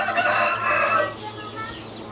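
An Aseel rooster on a farm in Rawalpindi crows loudly and close by in one strained, wavering call that fades into lower clucking toward the end.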